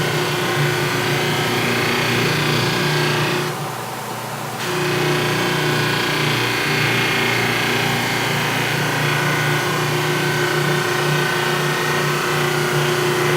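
A grinding wheel sharpening an ice blade runs as a loud, steady motor whine with a faint rattly undertone, dipping briefly in the middle before resuming its constant drone.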